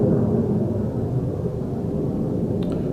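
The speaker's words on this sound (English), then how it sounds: "there's a jet flying over our apartment" A jet airplane passes over an apartment building, a steady broad low rumble that holds the same level throughout, heard alone with no voices over it.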